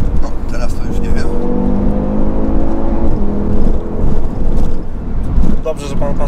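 An Audi RS3 accelerating, heard from inside the car as a loud engine note rising in pitch, with people talking over it.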